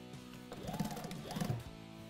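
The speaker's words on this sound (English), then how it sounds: "we're just going to sew these up now" A sewing machine stitches cotton-stuffed tuck and roll upholstery, giving a short, quiet mechanical whir with a rising and falling motor pitch, no voices.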